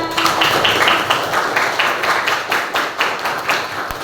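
A group claps steadily with dense, overlapping hand claps for several seconds. The applause is lively and close.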